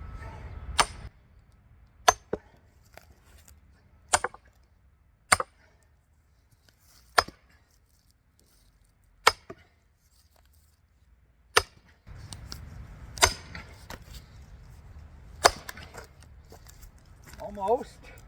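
A steel maul strikes a 4-way wood wedge to split firewood on a stump, giving sharp, loud impacts roughly every one to two seconds, with a few softer knocks and low rumble between blows.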